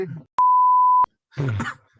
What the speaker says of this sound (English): I forgot to turn off my alarm.